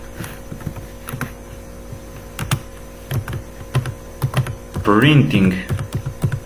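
Computer keyboard typing while writing C++ code: a quick run of clicky keystrokes close by, with a short stretch of speech partway through.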